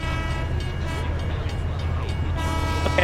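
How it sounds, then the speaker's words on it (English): A train rolling past a railway crossing while a driver waits in a car, a steady rumbling clatter of wheels with a sustained horn-like tone, continuous and fairly close throughout. "I'm having to wait on this train."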